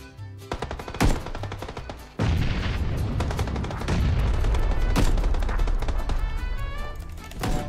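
Heavy, sustained gunfire in PUBG, with a sharp opening shot followed by dense, continuous rapid bursts of automatic fire and booms, loud and close, filling the whole stretch.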